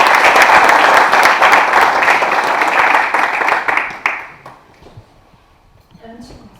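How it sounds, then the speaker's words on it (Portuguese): Loud, dense applause from a conference audience at a colloquium on women in agriculture, sustained for about four seconds before fading out, followed by a faint voice near the end. "Um grande aplauso."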